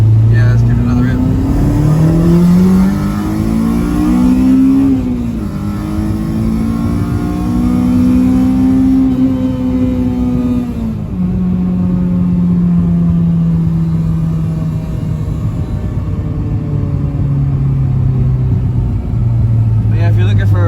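A Honda Civic with a K20Z1 engine revs repeatedly, a loud, close engine note climbing and falling in long sweeps over about twenty seconds with a constant droning tone underneath.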